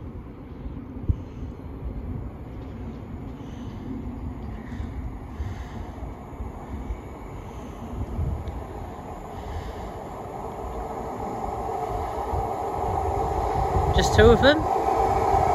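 An ex-EMR HST diesel train rumbles past at Harrow and Wealdstone, a steady low drone that builds toward the end with a brief squeal, while people talk nearby.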